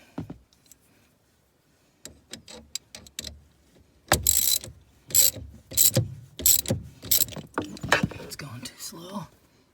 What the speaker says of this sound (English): Alright, I had to switch to my electric ratchet.